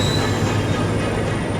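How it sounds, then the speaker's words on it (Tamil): A train pulls into a station in New Zealand with a steady, loud rumble of railcars and wheels rolling near by, low droning tones and faint squeal under a continuous roar, no voices. "இங்கே பாருங்கள், சடனாக ஒரு ட்ரெயின் வருதுங்க"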